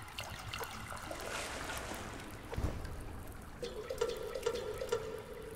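Water fills a container in the survival game Subsistence, a soft trickle and drip that grows into a steadier pouring stream toward the end, heard alone and fairly quiet.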